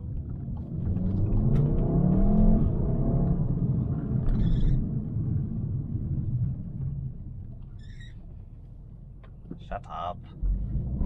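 A VW Golf R engine rumbles and builds as the car accelerates, a deep, steady drone heard from inside, fading slightly while a few faint high squeaks come through near the end.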